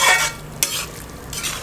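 Thick Kerala-style fish pickle is stirred in a pan with a spoon, giving close, loud scraping strokes over a light sizzle, with one sharp clink partway through and no talking.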